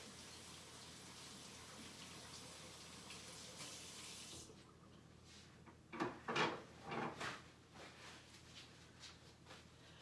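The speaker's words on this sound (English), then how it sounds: "Let me wash mine right quick so you can see me doing it." Hands being washed under a running kitchen tap before cooking meatloaf, a steady broadband rush of water for the first half, then quieter with a few distinct splashes and rubbing sounds near the end.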